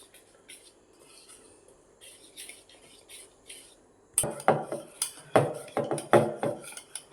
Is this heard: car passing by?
no